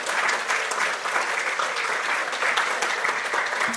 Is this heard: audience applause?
yes